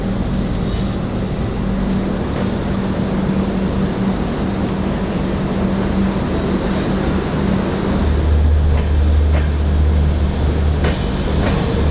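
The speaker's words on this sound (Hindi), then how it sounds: "हमारी ट्रेन चल रही है 7:20 को, दिख रहा है।" The Vivek Express passenger train, India's Dibrugarh–Kanyakumari service, runs along with a loud, constant rumble and rattle from inside the carriage, a deeper low drone swelling in near the end.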